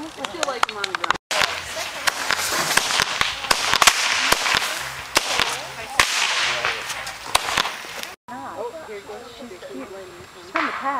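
Fireworks bang in a rapid string of sharp, loud cracks and pops outdoors at night, with excited people talking and laughing throughout.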